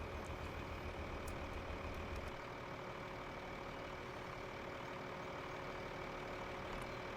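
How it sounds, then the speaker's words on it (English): A farm vehicle's engine in Farming Simulator 15 rumbles at a steady idle, a low continuous drone with a brief heavier burst at the start, even and unchanging, with no talk. "the engine sounds on this are incredible"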